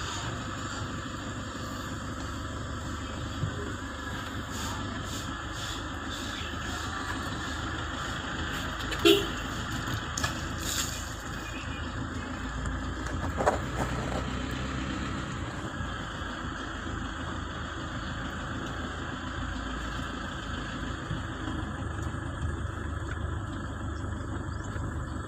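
A Toyota Innova's engine drones steadily from inside the cabin while driving and shifting gears in Rosario, Batangas, a continuous low rumble with a few brief clicks and knocks, no voices during the stretch.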